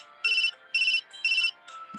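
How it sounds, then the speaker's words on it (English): A phone ringtone for an incoming call trills in three evenly spaced electronic bursts, loud and close, followed by a softer fourth tone. "Just then, I heard the sound of the incoming call."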